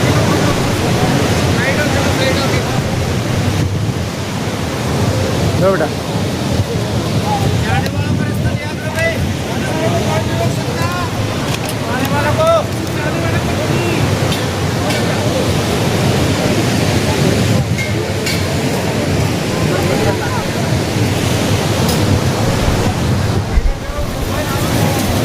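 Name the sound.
flowing Saraswati river at Mana village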